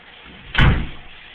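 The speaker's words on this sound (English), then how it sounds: "Close the door." A door swings shut with a single solid thud in a home, one short loud slam with a brief tail against low room background.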